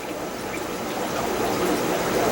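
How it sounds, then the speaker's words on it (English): Aquarium air pump bubbling in a hydroponics water reservoir, a steady close fizzing, gurgling wash of bubbles that continues evenly and grows slightly louder. "as you can see, we got some good bubbling going on."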